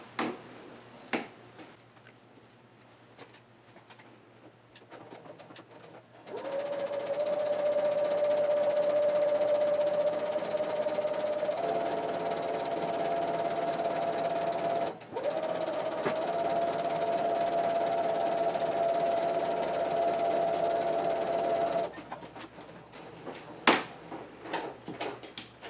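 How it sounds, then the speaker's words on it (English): A sewing machine stitches a shoulder seam on a spandex bodysuit, running as a steady motor hum for about fifteen seconds with a brief pause midway. Quieter handling noises come before and after. "And sew along that edge."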